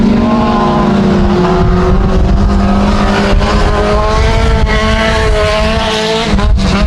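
Mini stock race cars roar around a dirt oval at Genesee, engines loud and close with overlapping revving tones rising and falling as the pack passes, steady and continuous throughout.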